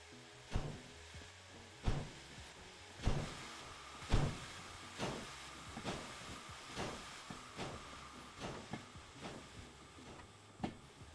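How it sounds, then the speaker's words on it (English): A steam locomotive in the train simulator Derail Valley chuffs in a slow, regular rhythm, about a dozen sharp exhaust bursts over a steady hiss, fairly faint with no talk. "Let me just adjust the train a little bit."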